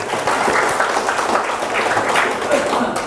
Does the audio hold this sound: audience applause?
yes